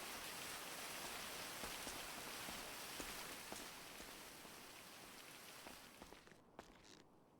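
Steady rain in a video game, a dense continuous hiss of drops on surfaces at fairly high level, easing slightly toward the end, with no voices.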